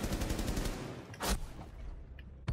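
Rapid bursts of gunfire from a Rainbow Six Siege match, a dense volley followed by a sharper isolated shot and another at the end, loud and close with no talk over it.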